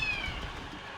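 A house cat lets out a short, high meow close to the microphone, layered over a constant low hum of background noise.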